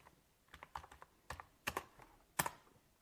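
Fingers type a short command on a computer keyboard for a Raspberry Pi 5, a handful of close, quiet, irregular key clicks with a couple of sharper taps near the end.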